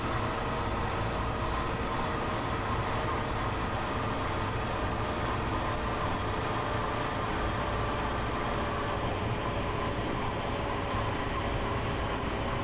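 Long Island Rail Road train running on its route from Hicksville toward New York in Train Sim World 2, a steady, dense rumble and hiss of the moving train with faint tonal hums, continuous and close throughout.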